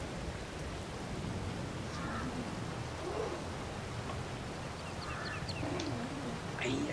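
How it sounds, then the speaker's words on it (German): Rain falls steadily on an open field, a constant broad hiss with a few faint bird-like calls poking through now and then. "Stimmt, es regnet hier."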